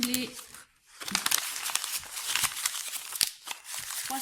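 Two sheets of paper are crumpled by hand, producing bursts of crackling and crinkling that come and go in quick clusters, close to the microphone, with a brief voice at the start.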